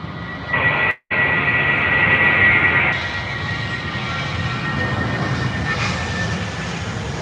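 A Boeing 787-9 airliner takes off at Heathrow Airport, a steady broadband jet engine roar that is loud and sustained throughout, briefly cut at one point, with no talking.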